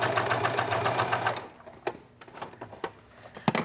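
A sewing machine stitches fabric for a patchwork-style skirt, running in a fast steady whir up close for about a second and a half, then stopping, followed by a few scattered clicks and taps.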